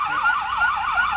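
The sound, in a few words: Milton Fire Department rescue truck siren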